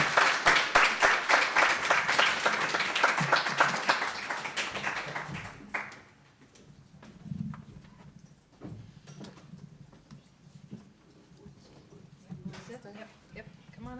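Audience applause at a report launch event after a speaker finishes, loud dense clapping for several seconds that drops away to scattered claps, shuffling and room noise.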